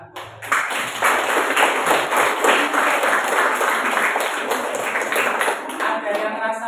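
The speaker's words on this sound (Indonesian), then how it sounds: "Tepuk tangan buat kalian." Participants at an academic supervision coaching session clap their hands together in a dense, sustained round of applause that holds steady for several seconds, close and fairly loud.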